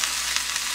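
Sesame oil sizzles in a hot stone pot of bibimbap made with leftover seasoned vegetables, a steady close crackling hiss with faint pops, heard on its own without any talk.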